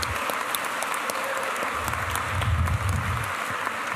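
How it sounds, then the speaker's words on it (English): Audience at a college Martin Luther King Jr. celebration claps steadily for a local performing group, a moderately loud, even wash of applause with a few sharper individual claps and a low murmur swelling midway. "we have to give a big round of applause for DaNell, Daymon, and Greater Works."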